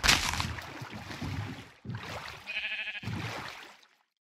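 Minecraft sheep bleat in a run of close, loud, wavering baas, with a short pause after the first long call and two more bleats following before it fades to silence.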